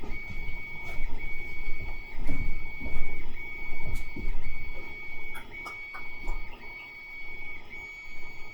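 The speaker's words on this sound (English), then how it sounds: "listening to that stupid printer" A printer runs steadily with a thin sustained whine and clattering mechanical pulses, fairly faint and continuous with small clicks scattered throughout.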